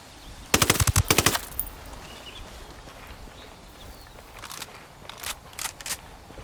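Suppressed gunfire in Ghost Recon Wildlands comes as a quick burst of muffled automatic shots, followed a few seconds later by several scattered single shots, with no talk.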